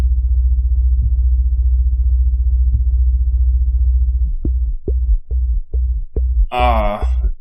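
Wavetable synth bass from a dubstep track: a loud, steady low drone that breaks into a series of short rhythmic stabs, ending in a brighter, gritty burst.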